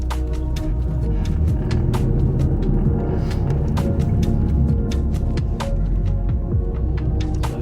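An Audi TT Mk2 2.0 TFSI petrol turbo on the move, a steady low engine hum and throbbing cabin rumble with sharp intermittent clicks and knocks over it, constant and close.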